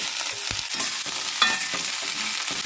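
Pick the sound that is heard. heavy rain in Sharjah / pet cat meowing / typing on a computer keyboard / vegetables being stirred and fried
vegetables being stirred and fried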